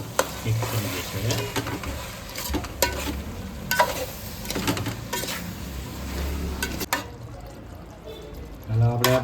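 Cabbage and mixed vegetables for Gujarati-style veg biryani are stirred and tossed in a pan, with a steady sizzle under repeated scraping strokes and occasional clatter of the spoon against the pan, close and fairly loud, with a voice speaking over it.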